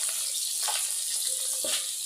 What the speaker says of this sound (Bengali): আমি এই যে মাছটা ভাজি করা শুরু করে দিছি, চুলার উপরে দিয়ে দিছি